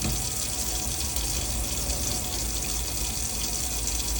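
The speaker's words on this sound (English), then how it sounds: "there's water coming through the tap nice and clearly" Water flows steadily from the tap of a 2011 Dethleffs Esprit motorhome, a constant close hiss and splash with no talking.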